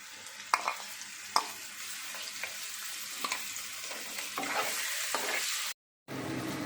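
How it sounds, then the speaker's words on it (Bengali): Ground chili, coriander, cumin and ginger paste is sautéed in a pan with potatoes: a continuous soft sizzle interrupted by several sharp clinks of a spoon scraping and stirring, briefly dropping out near the end before the frying resumes. "এবার আমি লঙ্কা, ধনে, জিরে, আদা বাটা করে রেখেছিলাম, এবার সেইটা এখানে দিয়ে দিচ্ছি। এবার কষাবো।"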